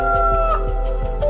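An animated rooster gives a short, loud crow at dawn, a clear tonal call with a few clucking pulses beneath it, heard alone and close.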